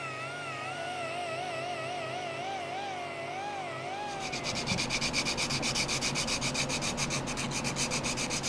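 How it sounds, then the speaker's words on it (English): Sandpaper rubbing across a 97-year-old Reed vise casting during restoration cleanup, a steady rhythmic scratching strokes loud and close, following a few seconds of quieter wavering tones before the sanding starts. "I'm just sanded up to 220"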